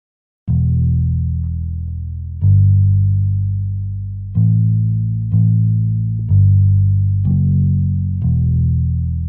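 A bass guitar plays a slow line of sustained low notes, six or seven plucked tones each ringing out loud and alone, with no voices.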